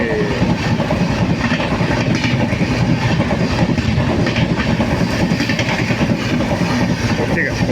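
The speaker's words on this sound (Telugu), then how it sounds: "సౌండ్ పోయిన తర్వాత మాట్లాడతారు అది ఆ రైలు" A train passes close by near Guntur, loud and continuous with steady rolling clatter of the wagons over the rails for the whole stretch, drowning out the surroundings.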